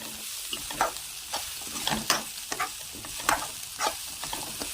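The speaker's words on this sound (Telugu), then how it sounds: "అవి కొంచెం ఫ్రై అవుతుండగా కాస్త సాల్ట్ వేసి కాసేపు ఫ్రై చేయాలి." Sweet corn frying in oil with salt while being stirred, giving repeated scraping stirs over a steady bright sizzle, close and fairly loud, with no talking.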